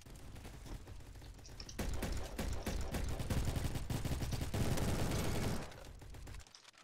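Rapid SMG fire in the Roblox shooter Bad Business comes in dense, fast rattling bursts that build through the middle of the clip, then stop abruptly near the end.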